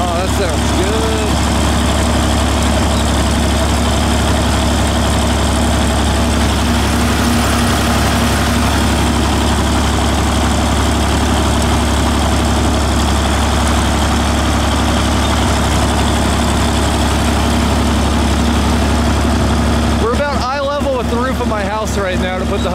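An old six-cylinder diesel tractor engine runs at a steady, loud idle throughout, with a deep continuous rumble; voices speak briefly near the end.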